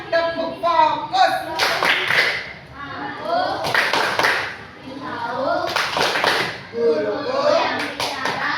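A group of children in a classroom performing a rhythmic focus clap, bursts of sharp unison claps alternating with chanted words, loud and close.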